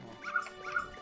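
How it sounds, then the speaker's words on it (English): A dog in the video game Majora's Mask gives two short, quiet barks in quick succession. "Freaking dog!"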